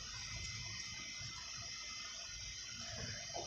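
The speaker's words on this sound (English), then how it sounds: "First, you get your glue. You open it. And you pour in as much as you are going to make." Glue pouring slowly from an opened bottle while making slime: a faint, continuous soft trickle with a low steady hiss and occasional small splashes, heard alone.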